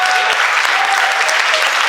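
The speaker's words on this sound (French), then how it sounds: "Et on peut applaudir" Audience applause for an orchestra at a live concert in La Grand Combe, a dense, steady clatter of many hands clapping throughout, loud and continuous with no talk over it.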